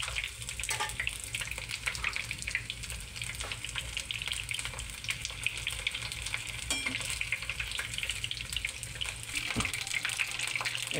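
Cauliflower pakoras frying in hot oil, a steady close bubbling sizzle running the whole time, with a voice talking quietly at moments.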